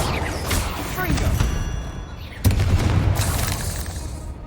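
Confringo spell blasts in the Hogwarts Legacy video game: crackling, booming bursts with one sharp explosive hit midway, loud and close, amid game ambience and a brief spoken voice.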